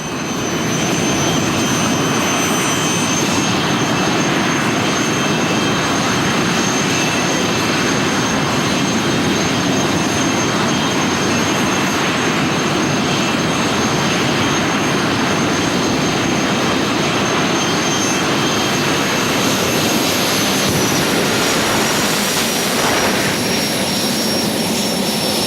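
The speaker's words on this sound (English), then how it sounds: "Broadway Bob loves the jet cars, and at one time he had the only track in the country that would let them race" Jet dragster cars racing at a drag strip, a loud continuous roaring jet-engine blast that holds steady throughout with no voices over it.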